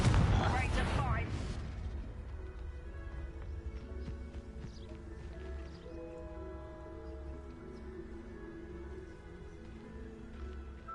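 A Confringo fire spell blasts off in Hogwarts Legacy, opening with a loud, dense explosive burst that thins over a couple of seconds into a lingering rumble beneath sustained game music and ambience.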